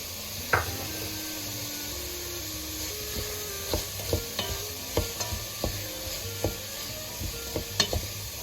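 Onion, carrots, leek and lardons sweat in a pan for pea soup, with a soft steady sizzle broken by irregular wooden-spoon stirring scrapes and taps, close and quiet with no talk.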